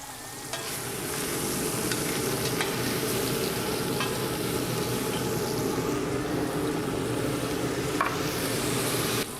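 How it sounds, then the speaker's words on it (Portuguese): Water hits a hot pan after searing meat, a loud continuous sizzle and bubbling rising quickly, with light scraping strokes against the pan bottom as the browned bits are loosened; no one speaks. "Isso a gente retira com um pouquinho de água, a gente deglaça o fundo. E já esfrega"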